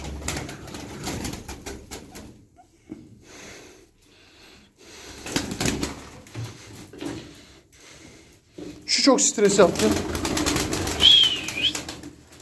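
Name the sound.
pigeons cooing and flapping wings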